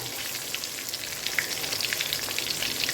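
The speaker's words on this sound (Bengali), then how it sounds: "কাঁচা লঙ্কা রাঁধুনি ভাজা যখন সুন্দর একটা গন্ধ বেরোবে" Green chilies and radhuni seeds fry in hot oil, making a continuous close crackling sizzle with small pops throughout, no talking.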